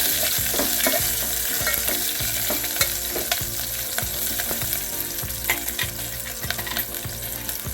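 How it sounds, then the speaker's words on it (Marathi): Slit green chilies frying with garlic in a hot pan give off a steady, loud sizzle throughout, with rhythmic stirring scrapes repeating every second or so. "त्या घालून घ्यायच्या त्या लसणाबरोबर व्यवस्थित भाजून घ्यायच्या"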